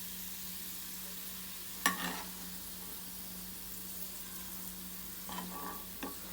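Sliced onions fry in hot oil for birista, a soft, even sizzle running throughout, broken by a sharp stir or pan knock near the start and a few lighter scrapes toward the end.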